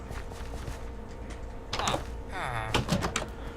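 A villager opens and shuts a wooden door in Minecraft, making a couple of short clunks over a low background hum.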